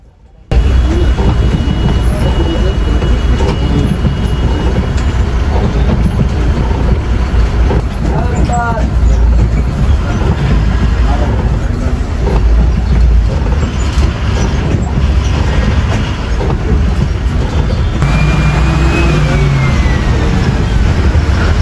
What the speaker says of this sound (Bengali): তোমরা এখন গাইস গাড়ির রিয়েল সাউন্ডটাই শোনো